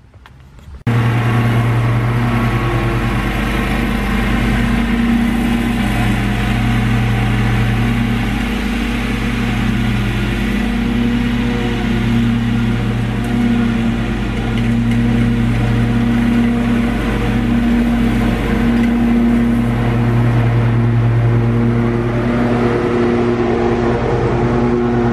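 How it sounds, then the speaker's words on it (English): A Ferris lawn mower's engine runs through the whole stretch while mowing, a loud, steady, close-up drone with a constant low hum and no talking. "So let's get this mowing started."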